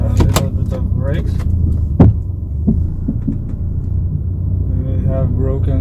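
A long-neglected old car with smoke, weak brakes and broken suspension is driven for the first time in five years, its low engine rumble thumping and bumping unevenly, with sharp knocks and a louder jolt midway.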